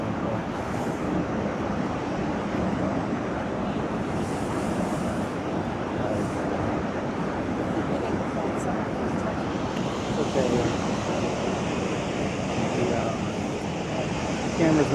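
Niagara Falls roars as a dense, continuous rush of falling water, broad and steady throughout like heavy surf, with faint wind buffeting and a murmur of voices in the background.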